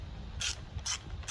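A shallow 8mm socket ratchets on a carburetor bolt of a Stihl MS 180 chainsaw, giving three quick, close metallic clicking bursts evenly spaced in under two seconds.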